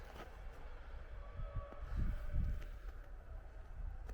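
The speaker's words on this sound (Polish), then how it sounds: "Tam zwykły pociąg" A low rumbling ordinary train rolls past at moderate distance, steady rumble with a few heavier thumps in the middle, no voices.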